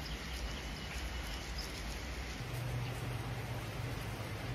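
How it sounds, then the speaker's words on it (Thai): Steady rain falls outdoors in misty weather, a dense, even patter with a faint insect or bird chirp high above it, continuous and unbroken with no talking. "นี่ค่ะบรรยากาศฝนตก"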